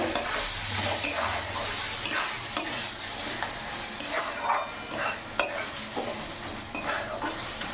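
Spice paste with Kashmiri chili powder sizzles and fries in oil in a pan for a chicken curry, while a spoon stirs it with repeated scraping and clinks against the pot, close and continuous.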